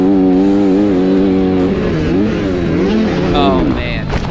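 A dirt bike engine revs up and down while riding over a series of bumps, its pitch rising and falling with each throttle change, loud and close under a layer of voice.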